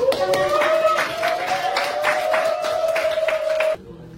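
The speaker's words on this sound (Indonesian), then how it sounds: "mari kita beri tepuk tangan buat" A classroom of students clapping for their classmates during a teaching session, a short burst of quick, fairly close hand claps with a steady sustained tone running beneath them, cutting off abruptly near the end.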